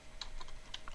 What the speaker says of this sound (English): you just type 3 times W